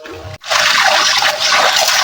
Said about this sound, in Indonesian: Suasana tenang, air mengalir pelan,